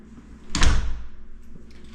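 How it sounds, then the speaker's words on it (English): A spring-loaded interior door swings shut with a single solid thud and brief rattle, close by and loud, followed by a faint settling tap in a quiet room. "Spring-loaded door, so it'll always stay shut."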